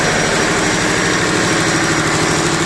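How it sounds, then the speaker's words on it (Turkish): A ship's generator engine idles at no load, a loud, steady, close mechanical drone with an even low throb and no breaks. "Jeneratörümüz şu an boşta devir arkadaşlar"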